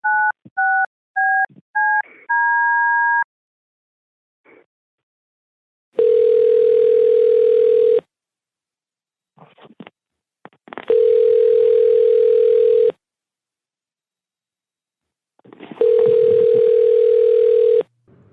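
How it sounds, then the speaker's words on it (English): Phone dialing: a burst of short keypad touch tones, then three long, loud ringback tones separated by silent gaps as the call connects, with faint clicks between. "I'm going to call his phone right now"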